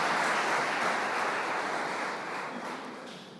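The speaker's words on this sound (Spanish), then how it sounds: "Dale un aplauso al Señor Jesús" A church congregation applauds, a full, continuous roll of clapping that starts strong and gradually fades over a few seconds, with no voices standing out.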